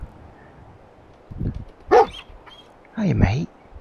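A dog barks in the Fallout 4 VR video game, a few separate close barks and yips that rise above faint game background with quiet talk around them.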